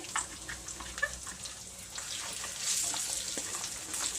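Jaggery frying and being stirred in a pan for a Goan hog plum dish, a steady close sizzle with scraping stir strokes.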